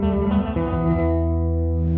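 Reverse gated reverb from a Fender effects pedal on a sustained, distorted electric guitar chord, a swelling wash of harmonics that cuts off abruptly and rises again, loud and continuous with no talk.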